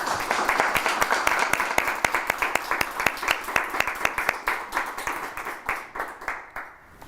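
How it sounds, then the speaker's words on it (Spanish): Audience applause for invited guests at a public talk, a moderate crowd clapping steadily with sharp individual claps standing out, thinning toward the end. "caluroso aplauso para nuestros invitados"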